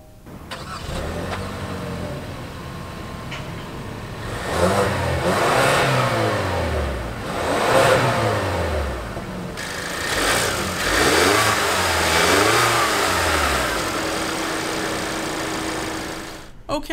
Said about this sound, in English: I'm going to start up the engine and see how a turbo four-cylinder sounds.